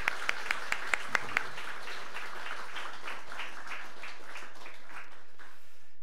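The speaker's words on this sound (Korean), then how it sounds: "큰 박수로 응원하겠습니다." A church congregation applauds during a Sunday service: a few sharp, separate claps open, then a dense, moderate patter of many hands spreads across the room and gradually tapers off toward silence.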